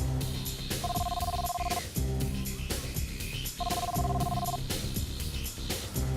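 A telephone rings during a bike ride, two bursts of a repeating electronic bell ringtone with a pause between them, clear and close over a dense, busy background.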